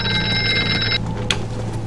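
A telephone rings in the VR horror game Horror Night, a bright electronic trill held for about a second before cutting off, followed by a short metallic ping.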